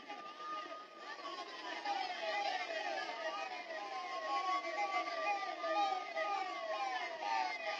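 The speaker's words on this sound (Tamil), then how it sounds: "ஆம்புலன்ஸ் வழிவிட்டுருங்க." An ambulance siren wails in rising and falling sweeps through a crowded election campaign rally in Nagercoil, with crowd chatter and voices around it.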